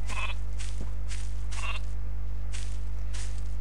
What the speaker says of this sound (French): Ah si, il y a encore un mouton.